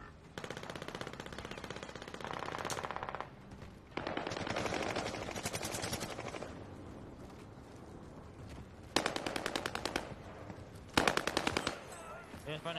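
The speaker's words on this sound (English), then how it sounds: "I'm not used to the recoil on his gun" Rapid automatic gunfire in a video game, long sustained bursts of machine-gun fire close and loud, with brief pauses between volleys.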